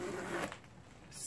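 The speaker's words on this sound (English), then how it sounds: "And the zipper pull is amazing." The zipper on a Longchamp Chicago bag being pulled open, a short, faint, smooth rasp close by in a quiet room, with no talking.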